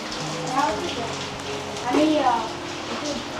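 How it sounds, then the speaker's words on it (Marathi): Monsoon rain hisses steadily over Konhavali village in the Konkan, a continuous wash at moderate level while people talk over it. "पाऊस येतोय जातोय थांबून"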